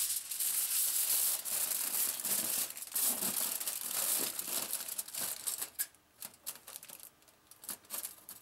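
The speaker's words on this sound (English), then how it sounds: "The foil is wrapped around the fog machine and taped into place." Aluminum foil crinkles and crumples as it is wrapped around a fog machine and taped in place, a steady close rustling for several seconds that breaks into sparser crackles and handling sounds toward the end.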